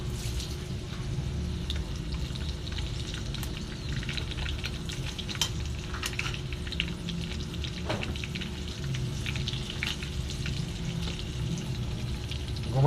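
Food frying steadily in a pan for a Filipino home meal, a continuous close sizzle with faint clinks of stirring and occasional water sounds throughout.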